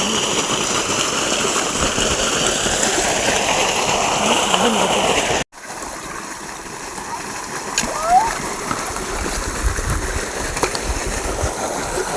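A child splashes and plays in water on a farm behind a house, irregular close splashing and rushing water that gives way to quieter flowing sounds after a brief break, with voices talking over it.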